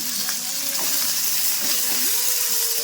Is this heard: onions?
yes